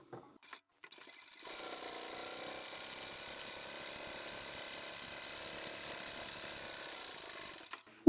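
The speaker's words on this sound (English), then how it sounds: "I'll sew all the way down here, across here, and back up across here again." A sewing machine stitches fabric with a steady, continuous mechanical whirr after a few brief clicks at the start. The fabric is strips from old men's ties being sewn into a fold wallet, and the running hum stays even throughout.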